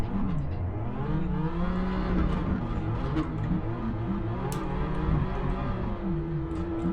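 A modified BMW F30 320i drifting gives a loud, continuous engine drone with rising and falling revs and wavering pitch, held close throughout with no break.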